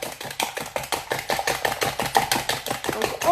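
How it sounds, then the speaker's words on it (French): Eggs whisked with sugar for a cherry clafoutis batter, the whisk clicking against the bowl in quick, steady, even strokes, close and moderately loud with no voices. "On fouette, on allège un petit peu la base."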